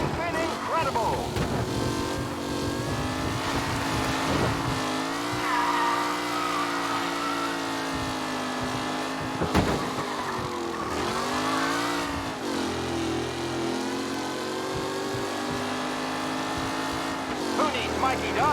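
Race cars roar through a race in Mafia Definitive Edition, engines revving and shifting pitch continuously with occasional tire squeal, loud and close, while a commentator's voice talks over them.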